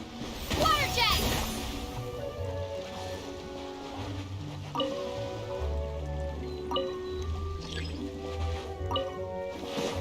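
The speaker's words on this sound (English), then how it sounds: "Water jet!" Genshin Impact water jet attack bursts with splashy dripping and liquid spatter, loudest in the first second. Wet squishes recur over sustained background music tones.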